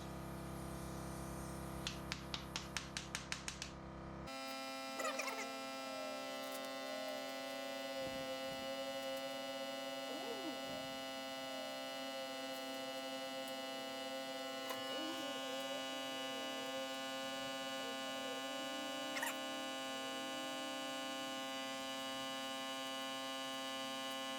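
A cordless Milwaukee air compressor pumps air into a tire with a steady, even motor hum that runs unbroken for about twenty seconds after a short start, quiet and with no talking.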